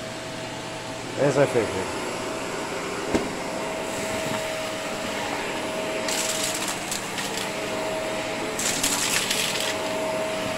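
Steady drone of a vacuum cleaner from a Bissell, Dyson or Shark picking up a mess on the floor, with occasional clattering debris rattling into the bin and someone speaking briefly.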